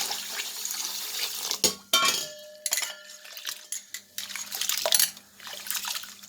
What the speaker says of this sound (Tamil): தண்ணி ஊற்றிடலாம் ஊறட்டும்